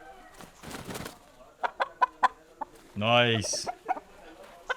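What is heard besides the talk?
fighting cocks clucking while being held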